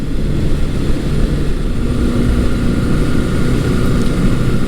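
An old air-cooled Honda CB750 four-cylinder motorcycle engine idling unevenly on a cold day, not firing on all cylinders, a loud, close, rough low rumble that runs steadily throughout.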